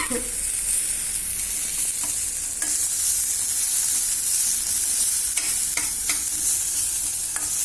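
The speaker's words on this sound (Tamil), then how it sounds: "அந்த சூட்டுலேயே நம்ம வதங்கிக்கணும்" Okra and coconut sautéing in a hot pan, a continuous bright sizzle with repeated stirring scrapes and clinks, close and alone without speech.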